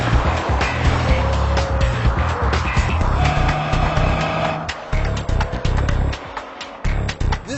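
A 2015 Subaru WRX driven hard on a road, its engine loud and steady from inside the car with tire noise and squeal, then thumps and bumps as the drone eases off.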